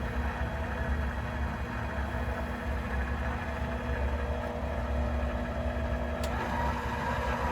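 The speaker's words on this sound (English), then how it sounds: "Turn it on here. Start mixing." An electric stand mixer whirs steadily as it beats sticky whoopie pie batter in a home kitchen, a continuous low motor drone with no talking.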